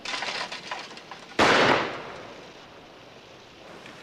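A single sharp shotgun blast fired at a clay target cracks out loudly over faint outdoor background noise, then fades in a short echoing tail.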